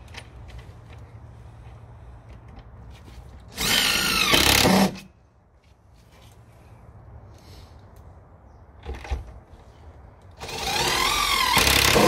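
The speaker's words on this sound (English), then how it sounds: "you can see he's putting the screws in on an angle and secret fixing" A power drill drives screws at an angle into wooden cladding boards for secret fixing, two loud whirring bursts of about a second each, separated by quieter handling noise.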